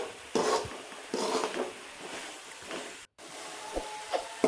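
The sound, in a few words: stirring bottle gourd kootu in a pan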